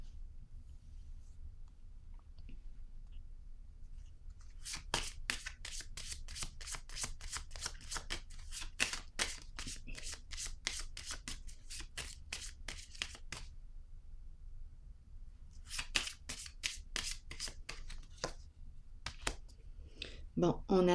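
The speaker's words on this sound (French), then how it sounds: "Je vais déposer une carte ici." Tarot cards handled and shuffled in quick crisp runs of snapping riffles, with pauses and a card set down, alongside soft low speech.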